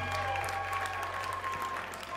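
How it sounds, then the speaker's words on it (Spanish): Guests at a lavish quinceañera celebration applaud, a steady wash of clapping over a low hum and a faint sustained musical tone in the hall. "Un lindo aplauso para ti y sobrina"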